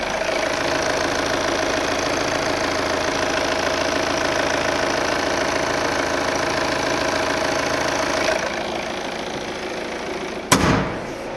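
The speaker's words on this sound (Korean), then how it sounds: "지금 엔진음까지도 규칙적이었고요" A Volvo V40 engine idles steadily with an even, regular hum and faint knocking texture, then a brief clunk near the end.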